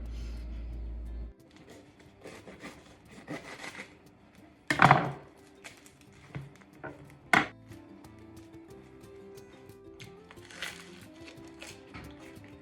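Knife cutting through a freshly baked crispy bread roll with a thin crust, giving a few sharp crackling crunches at close range, with softer scraping between them and quiet kitchen handling noise.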